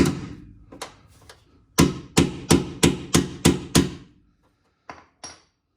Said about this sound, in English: I want to hit this with a hammer to get this even.